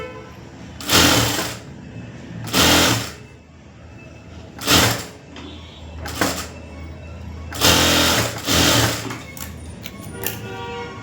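Sewing machine stitching the lining of a full blouse, running in several distinct bursts of about a second each with quiet pauses between, close and fairly loud, with no talk.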